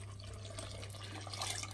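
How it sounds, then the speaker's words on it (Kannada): Water is poured into a pot of beans sambar as it cooks, a quiet, continuous splashing trickle over a low, steady hum. "ನೀರು ಹಾಕ್ತಾ ಇದ್ದೀನಿ ನಾನು."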